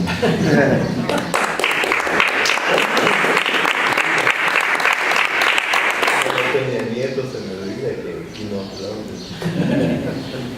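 Audience applause at a book presentation, a dense burst of clapping that swells for several seconds then fades out, followed by a speaker talking.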